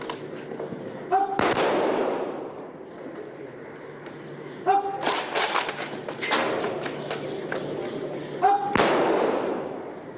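Ceremonial cannons fire a 21-gun salute at the state funeral of former Indian Prime Minister Manmohan Singh. Three heavy booms come about three to four seconds apart, each echoing away, while a voice talks in between.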